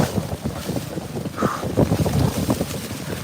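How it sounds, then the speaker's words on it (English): Steady wind buffeting the microphone with a low rumble, plus a wet, splashing roar of Niagara Falls throughout from a tour boat, loud and close, with no voices. "I feel like it's windy"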